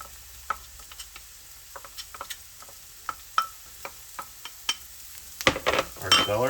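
Onions and carrots sauté in butter while a utensil stirs them, making a string of sharp, separate scraping taps over a soft, steady sizzle. A louder clatter of pan and spoon comes near the end.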